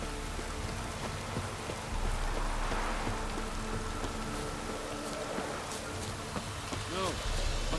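Steady rain falls in The Witcher 3, a dense, even wash of drops on surfaces that stays constant throughout, with faint background sounds under it.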